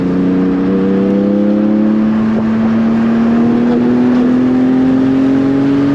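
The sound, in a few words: Porsche Cayman GT4 engine revving while driving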